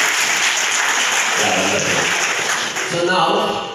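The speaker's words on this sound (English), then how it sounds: "If you are in agreement, clap." A workshop audience claps together in a broad, sustained burst, with voices rising over the applause toward the end.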